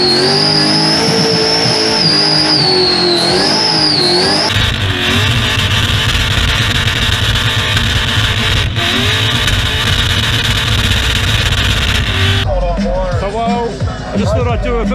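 A car does a burnout on a burnout pad. The engine roars loud and close and keeps revving, with tires squealing and scrubbing through most of the stretch, then the tone shifts near the end.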